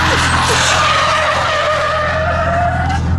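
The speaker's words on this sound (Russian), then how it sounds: "Сразу слышно, что какая-то тюнь-турбо стоит, потому что такой, знаете, острый вот этот звук турбины" Toyota Altezza with a 2JZ engine and tuned turbo drifting in a long arc, tires skidding loudly and steadily while a sharp, high turbo whine rises above the engine.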